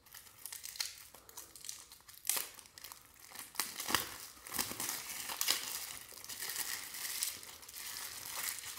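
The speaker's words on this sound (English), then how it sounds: "it's sealed, so we're going to have to break this plastic off here" Stiff plastic packaging crackles, crinkles and snaps as it is pried and torn off a sealed ceramic bowl, a close, irregular series of sharp crackling bursts without speech.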